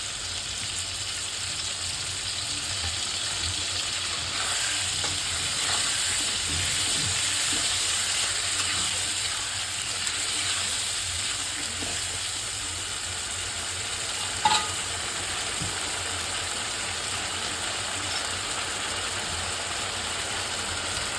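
Ginger garlic paste frying in a hot pan for pangas fish curry, a steady hiss and crackle of sizzling oil running continuously with a faint stir or clink partway through.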